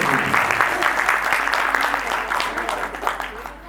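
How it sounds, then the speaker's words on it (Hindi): A live audience at the final day of a Ram Katha gathering in Parmanand Colony claps in welcome, a steady dense wash of applause throughout with a voice faintly mixed in. "एक बार जोरदार ताली बजाकर स्वागत कीजिए।"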